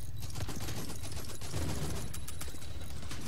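Continuous dense gunfire during a strafing run in a virtual reality shooter game, a sustained rumbling barrage of rapid shots and explosions at a fairly low level, without talk.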